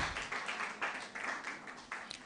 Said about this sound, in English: give a round of applause for our amiable